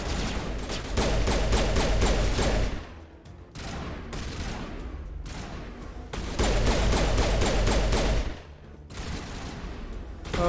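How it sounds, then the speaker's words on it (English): Bursts of shotgun fire in the Mass Effect video game come in loud, rapid volleys separated by brief lulls, with repeated clusters of shots dominating the scene. "Oh god, these guys have shotguns."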